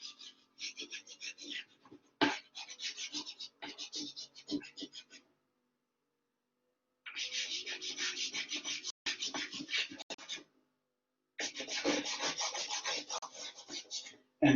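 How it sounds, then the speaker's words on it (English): Pastel sticks scratch across paper during a still life drawing, making rhythmic, dry rasping strokes in short bursts separated by brief pauses, close and fairly quiet. "if you heard that kind of scratchy sound, sometimes your pastels, they may have like a little bit of wax or like a glue kind of coating"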